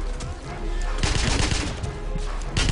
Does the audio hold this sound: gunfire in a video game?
yes